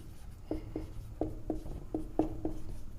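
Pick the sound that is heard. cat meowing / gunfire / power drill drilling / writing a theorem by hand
writing a theorem by hand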